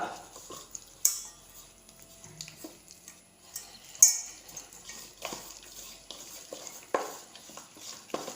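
A spoon clinks and scrapes against a bowl as chicken marinade is stirred together with vinegar, giving scattered sharp metallic taps and a light wet stir at close range, with no talking.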